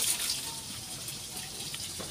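Water is poured onto moss-covered cement, a steady splashing wash of liquid with a slightly brighter burst at the start, close and continuous with no voices.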